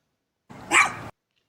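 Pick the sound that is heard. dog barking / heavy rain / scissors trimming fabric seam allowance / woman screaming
dog barking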